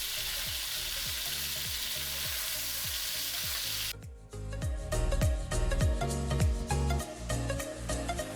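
Sausage frying in a pan, a steady broadband sizzle that shifts partway through into busier crackling and spitting, with rhythmic scraping from stirring underneath, close and fairly loud.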